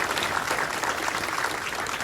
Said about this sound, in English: So just a big round of applause for all of them.